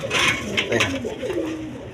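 A pair of Mosoldom pigeons coos close by, with low rolling throaty calls repeating over a few seconds and a faint bit of rustling in the background.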